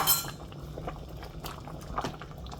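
Oha soup with crayfish and Scotch bonnet bubbling quietly in a pot while a spoon scrapes and clinks against the sides in scattered soft strokes, close by.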